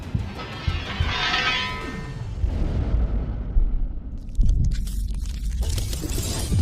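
A gun is fired at a katana: loud, booming bursts, with a sharp, forceful blast near the end followed by noisy, rumbling debris.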